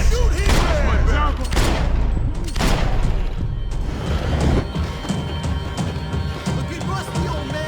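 Gunfire erupts in a Max Payne 3 shootout, dense bursts of shots and impacts crowding the opening seconds before thinning into scattered reports, with shouting voices and game ambience underneath.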